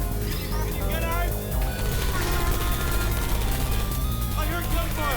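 Gunfire bursts in the video game Portal 2, dense rattling shots and impacts layered over game music and effects, loud and continuous through the moment.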